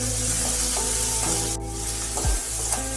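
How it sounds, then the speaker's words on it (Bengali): Bitter gourd pieces being stirred in hot oil with turmeric and salt: a loud, continuous hiss and sizzle with scraping stir strokes, close up and alone. "উচ্ছেগুলো ভালোভাবে তেলের মধ্যে একটু নেড়ে নিতে হবে।"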